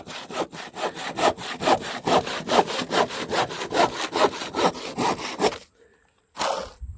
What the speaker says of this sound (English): Got no electricity, boss. Got to use that dang handsaw.